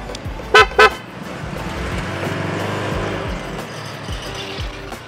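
Upgraded horn on a Honda Click scooter, tested at a gas station, gives two short loud honks close together near the start, then engine and ambient noise continue.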